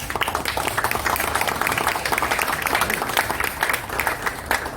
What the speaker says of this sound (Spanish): yo pediría un aplauso para Jaime por eso